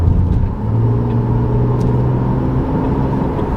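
A car in eco mode, driven from inside, accelerates with a steady low engine rumble and rising drone that holds throughout, heard close with no talk.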